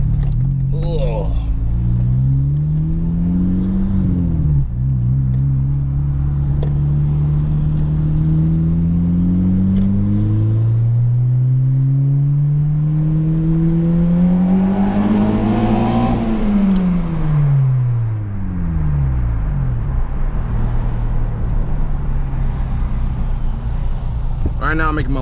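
A 9th-generation Honda Civic Si fitted with a Hasport rear motor mount drives along the road, its engine note steadily rising and falling through gear changes, with someone talking over the cabin drone.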